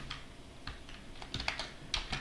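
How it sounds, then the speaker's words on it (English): Close, quiet typing on a computer keyboard as a prompt is entered, a quick irregular patter of key clicks with a few sharper taps, with no talk. "so let me actually type that up. I'll type prompt."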